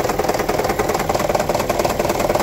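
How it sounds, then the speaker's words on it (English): A 2009 Toyota Prius 1.5 hybrid engine rattling at idle around 1100 rpm, a loud, close, steady mechanical clatter with rapid uneven knocking pulses. "the engine is rattling"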